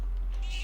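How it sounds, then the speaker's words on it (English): A single short cat meow from the video game Persona 3 Reload, high and clear, rising over a low steady hum of game audio. "Hello, weak cat."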